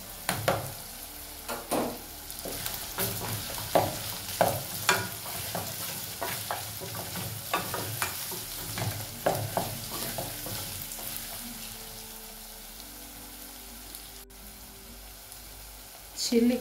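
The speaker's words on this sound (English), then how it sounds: "I will also go in with a mixture of garlic and ginger." Garlic and ginger frying in a pan for a beef stew, a soft close sizzle broken by repeated stirring scrapes and clacks of a utensil, faint throughout.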